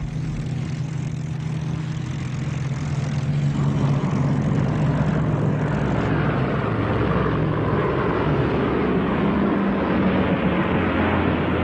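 WWII aircraft engines of a Japanese raid on American carriers give a loud, steady propeller drone that fills the whole stretch, with a thick low rumble that shifts slightly partway through.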